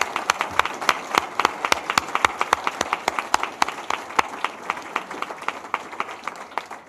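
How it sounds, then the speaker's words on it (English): An audience at a literary lecture gives a round of applause, a small group clapping in a brisk, fairly regular pattern of distinct sharp claps that carries on steadily and slightly softens toward the end. "Please, another round of applause."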